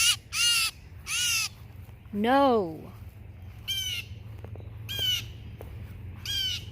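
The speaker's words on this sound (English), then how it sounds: "they were like all screaming. The birds were." Crows squawk and caw harshly in a series of about seven loud, ragged calls, some near and some farther off, over a low steady hum, with a person briefly speaking.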